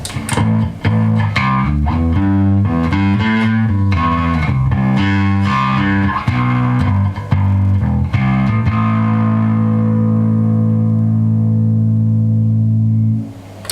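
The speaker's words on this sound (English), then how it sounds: "and then the slightly overdriven one." Electric bass with a mild overdriven grit, playing a run of notes before settling into a long sustained note that rings out and fades.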